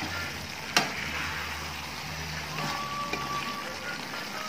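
Potatoes with beef for sambal goreng sizzle in a frying pan while being stirred, a steady close crackle with a sharp scrape of the utensil near the start and occasional clinks.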